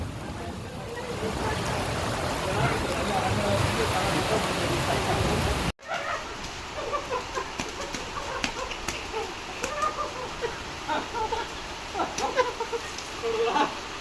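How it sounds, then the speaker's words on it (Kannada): Heavy rain pours down in a tropical rainforest, a dense, loud hiss that cuts off abruptly and gives way to lighter dripping and scattered drops on surfaces. "ಮಳೆ ವರ್ಷ ಆಯ್ತು. ಮಳೆ ಮಳೆ ಮಳೆ."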